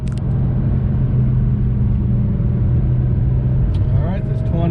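A 1986 Porsche 930 Turbo drives with a steady deep engine rumble from inside the cabin, then a brief rising rev near the end, with a voice speaking briefly over it.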